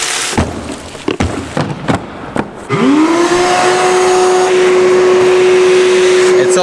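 A dirt-filled shop vac motor winds up and runs loud and steady after a few sharp knocks and clatters, its whine holding constant to the end.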